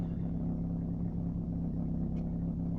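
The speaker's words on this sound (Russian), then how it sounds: "Вот звук выхлопа в салоне." Low, steady exhaust rumble heard inside the cabin of an old car with a worn flex pipe, idling cold while warming up at minus 20 outside, with a constant droning hum and a faint rattle and no talking.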